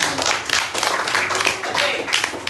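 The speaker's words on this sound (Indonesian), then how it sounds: "Tepuk tangan." Children in a primary school classroom clap together at a teacher's prompt, a dense burst of hand claps filling the room for a few seconds.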